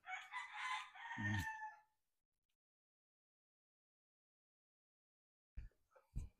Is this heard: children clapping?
no